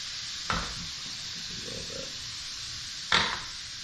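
Pork belly rendering in a dry pan with no added oil, a constant close sizzle broken by two sharp utensil clacks against the pan, no talking.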